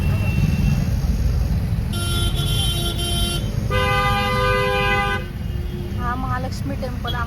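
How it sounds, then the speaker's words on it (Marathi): Car horns blare loudly in heavy road traffic on the Mahalakshmi (Ambabai) temple road, with several long, overlapping honks over a constant rumble of engines before the horns fade into fainter beeps. "ट्रॅफिक बघा ट्रॅफिक."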